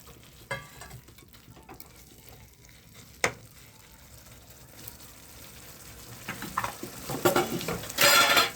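Catla fish pieces go into a yogurt curry gravy in a pan: quiet stirring and clinks give way to a rising, crackling sizzle toward the end, with no talking.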